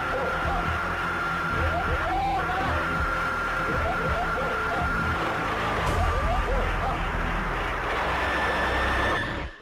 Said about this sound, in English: What you're hearing is the sound of the cabin at that time.